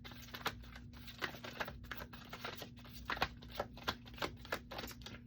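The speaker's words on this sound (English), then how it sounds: "I swear I gotta figure out how to shuffle these big ass cards" Large tarot cards are shuffled in quick, irregular riffles and taps, close and fairly faint, over a low steady hum.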